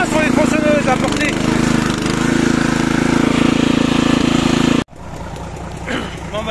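A heavy diesel Deutz tractor engine idles with a steady low rumble in a forest, briefly cutting out near the end before a quieter mechanical hum returns.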